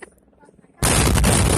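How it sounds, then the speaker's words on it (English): A police-detonated explosion tears through a residential neighborhood at night, recorded on a cell phone: a quiet, faintly murmuring moment is abruptly broken by a massive, booming blast that stays loud and rumbling until the end. "the terrifying explosion was captured on cell phone video Wednesday night by the Martinez family"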